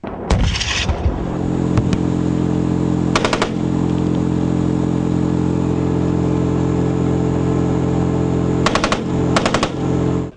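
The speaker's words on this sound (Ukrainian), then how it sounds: "Кожен постріл має бути максимально точним" Bursts of automatic gunfire crack out in several short volleys at military reservist training, loud and close, over a steady engine rumble.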